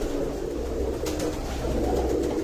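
A pair of pigeons, one male and one female, cooing in low continuous murmurs inside a loft amid steady ambient noise, with no talk.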